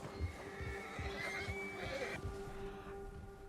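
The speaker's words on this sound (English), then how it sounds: "O urso assustou seu cavalo." A frightened horse in Red Dead Redemption II lets out a long, shrill whinny that wavers and trails off, with hoof clip-clops and game ambience underneath.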